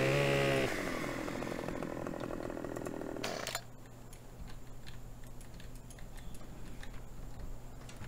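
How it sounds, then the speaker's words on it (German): A chainsaw in Landwirtschafts-Simulator 17 runs loud with a high buzzing whine while cutting a tree, then cuts off after a few seconds, leaving quiet ticking and low background hum. "Die kann ich tatsächlich sägen."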